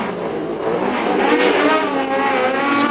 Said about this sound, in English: Next up, Group 6 sports cars.